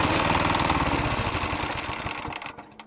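A walk-behind tractor's small engine runs loud and rough, then sputters and dies away after a couple of seconds, stalling from a faulty oil level sensor.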